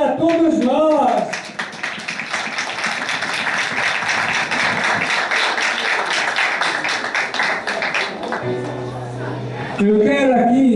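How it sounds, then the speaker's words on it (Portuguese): Applause from an audience at a community gathering, dense broadband clapping sustained for several seconds, with voices and a brief tone near the end as the clapping fades, then talk resumes. "Palmas para todos nós!"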